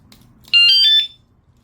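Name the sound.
Wsdcam wireless vibration motion sensor bike alarm sounding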